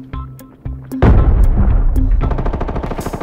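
Gunfire in the shooter game Arena Breakout, a few separate shots then a loud sustained burst of rapid automatic fire with regular evenly spaced cracks, close and heavy, with no talking.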